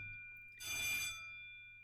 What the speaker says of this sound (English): Pause for the bell.